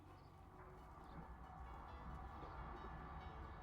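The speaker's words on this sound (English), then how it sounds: "Well, there was a train coming," A train rumbles past in the video game Construction Simulator, a steady low mechanical roar that stays at an even loudness for a few seconds with no voices over it.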